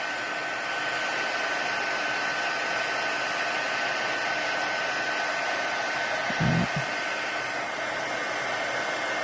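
A heat tool melting embossing powder on a stamped card blows a steady, close whooshing hiss without a break, with one brief low thump partway through.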